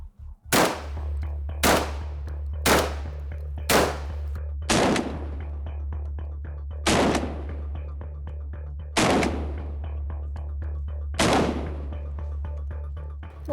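Loud shotgun blasts firing Rio 28-gram shells ring out one at a time, eight shots spaced a second or two apart, each sharp and close over a steady low hum.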